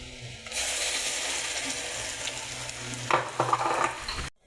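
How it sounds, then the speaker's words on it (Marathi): Masala spice powder stirred into onions frying in oil over medium heat for an egg curry, a steady soft sizzle with scraping spoon strokes against the pan, growing briefly busier near the end. "मध्यम गॅसवर कांदा आपला छान भाजून झाला आहे त्यात आता आपण हा मसाला टाकूया"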